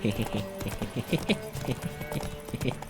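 Horse hooves clip-clop in a quick rhythmic trot in the video game The Witcher 3: Wild Hunt, up close and fairly loud, with someone talking over them.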